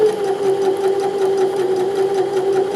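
A close sewing machine hums steadily at an even speed as it stitches around a pocket edge, pivoting at the corner, with a strong tonal drone and a fast rhythmic ticking throughout.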